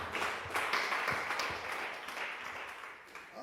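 A church congregation applauds in a dense, fairly quiet wash of clapping with a few sharper claps standing out, fading slightly near the end.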